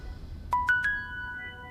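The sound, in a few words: phone ringtone ringing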